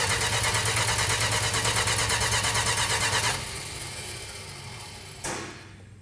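A 1968 Dodge Charger R/T engine cranks steadily without catching, a loud rhythmic churn for about three seconds before the starter cuts off, leaving a lower hum and a brief mechanical clunk near the end.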